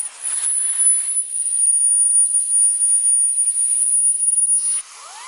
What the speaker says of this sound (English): Right here, we're going to try real quick the pet hair tool brush.